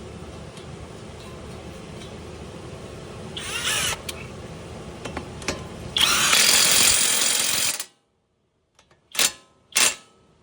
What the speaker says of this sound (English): Put my castle nut back on it and drill down on it.